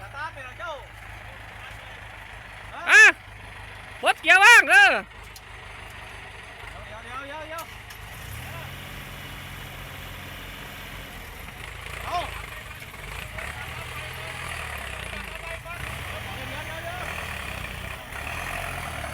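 A stalled Ford or Kubota tractor, stuck in mud, is restarted: its diesel engine catches partway through and settles into a steady, close idling rumble. Loud shouting voices come in bursts before it starts.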